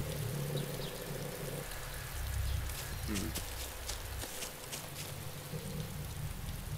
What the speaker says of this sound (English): Oh, the rain is stopping.